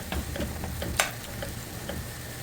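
Vegetable curry cooks in a pan on a stovetop over medium heat, giving a steady soft sizzle with a few light scrapes and one sharp clink of a utensil against the pan.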